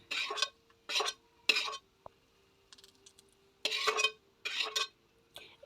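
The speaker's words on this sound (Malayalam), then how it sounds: "ഞാനിവിടെ ക്യാഷു മാത്രമേ ഇട്ട് കൊടുത്തിട്ടുള്ളൂ ഇത് നല്ല ഗോൾഡൻ നിറമാകുന്നത് വരെ ഒന്ന് വറുത്തെടുക്കാം" Cashews fry in a pan until golden while a spoon stirs them in short scraping bursts, with soft sizzling between strokes, for a sweet payasam.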